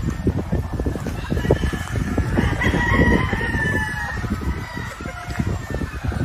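Moonwalker sweater gamefowl rooster with its pullets crowing and clucking nearby on a Philippine farm, with steady barnyard noise and other fowl calling throughout.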